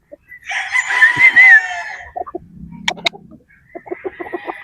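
A Boston Roundhead gamefowl rooster crows loudly and close, one long harmonic crow followed by a few sharp clucks and short calls, with low rustling and a brief hum in between.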